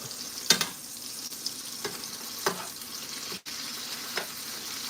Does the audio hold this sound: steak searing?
yes